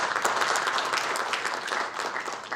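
Audience at a Korean policy conference on the Fourth Industrial Revolution breaks into sustained, dense applause, steady and loud throughout with many hands clapping together.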